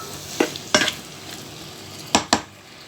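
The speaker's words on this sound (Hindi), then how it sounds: "अब इसको हम भूनेंगे" Potato and capsicum (aloo shimla mirch) stir-fry in a pan under a soft, steady sizzle, broken by four sharp scraping strokes of a spoon against the metal, close up and without talk.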